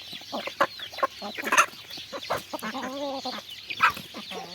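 Jungle fowl chickens at feeding time cluck, squawk and crow in a busy, overlapping chorus close by, with sharp bursts rising above a steady flock noise and no talking.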